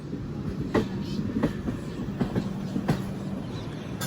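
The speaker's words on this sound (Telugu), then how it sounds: "బ్యూటిఫుల్ టర్నింగ్ అవుట్ కొడుతుంది మన ట్రైన్." Satavahana Intercity Express with LHB coaches rolling along the track, steady rumble with a few sharp rhythmic wheel clacks over rail joints, heard from inside the train, no talking.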